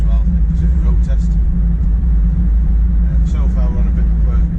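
Land Rover Freelander Td4 driving on a smooth road, a steady low engine drone and road rumble running throughout, close and continuous, with a faint voice talking over it at moments.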